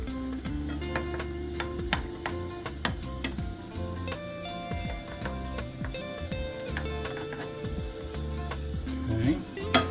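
Creamy garlic chicken sizzles steadily in a hot pan while a utensil stirs through it, with faint scraping and clinks over the continuous frying hiss; music plays throughout.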